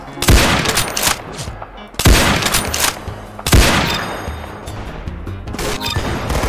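Sharp, loud sniper shots crack out in the Roblox game Arsenal, three heavy reports spaced about a second and a half apart, each trailing off into game noise.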